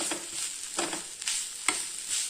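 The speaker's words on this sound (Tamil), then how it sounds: "இது கூட நம்ம கொஞ்சம் இதுக்கு தேவையான அளவு உப்பு போட்டுக்கலாங்க. போட்டு நல்லா வதக்கிக்கலாம்." Grated coconut and salt are sautéed in a pan for a mixed rice dish, with a soft, steady sizzle and repeated scraping strokes of a spoon stirring them, heard up close without talk.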